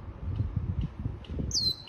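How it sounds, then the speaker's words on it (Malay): Birds in trees near a roadside restaurant give a few faint, scattered chirps over a low background rumble, with one sharper, brighter call near the end. "kat situ ada burung lah guys"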